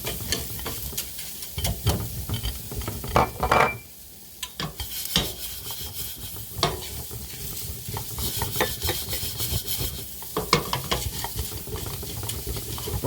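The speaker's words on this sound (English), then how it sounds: "We're basically sweating out the shallot" Shallots sweat in a hot pan for risotto, giving a steady soft sizzle broken by the scrape and clatter of a utensil stirring against the pan, with a brief quiet pause midway.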